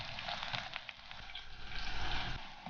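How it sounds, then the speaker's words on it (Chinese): Garlic and small onions fry slowly in hot oil over the lowest heat, giving a close, continuous crackling sizzle that swells slightly toward the end. "把这些蒜头、小洋葱放下来，调到最小火，然后慢慢的炸，炸出香味"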